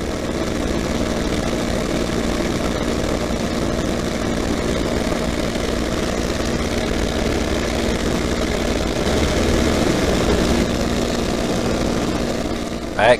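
A P-51C Mustang propeller aircraft drones loud and steady from inside the cockpit in flight, its engine a continuous heavy rumble throughout.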